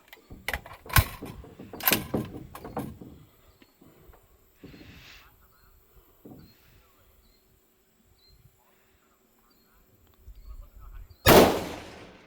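A Zermatt Origin bolt-action rifle firing 140 grain Sierra loads at a shooting match: a few sharp, loud reports early on with echoing tails, long quiet gaps with faint insect noise, and one more loud blast near the end.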